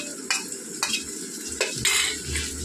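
Garlic, ginger and green chili paste being stirred in a frying pan, several sharp spoon scrapes against the pan over a low sizzle, close and clear.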